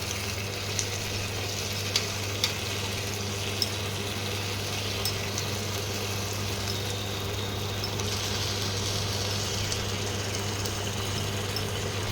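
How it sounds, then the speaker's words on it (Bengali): Chicken sizzles in a hot pan with spices, giving a steady, even frying hiss over a low hum, with a few faint ticks from the pan. No voices are heard. "এইবারে মাংসটা আস্তে আস্তে দিয়ে দেবো।"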